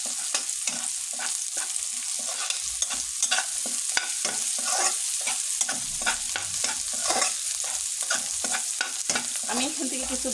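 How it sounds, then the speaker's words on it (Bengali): Marinated chicken fries in hot oil with onions, a busy, close crackling sizzle that runs without pause, overlaid with frequent scraping stirs in the pan. "তারপরে আমি মুরগিটা যে মাখিয়েছিলাম সেটা আমি এই তেলের মধ্যে ছেড়ে দেবো।"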